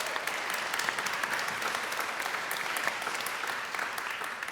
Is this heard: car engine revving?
no